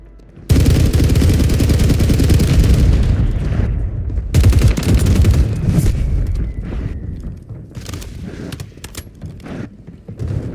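Sustained heavy automatic gunfire from a Warzone battle royale match, loud and dense for several seconds, then a second burst followed by scattered shots and fainter firing trailing off.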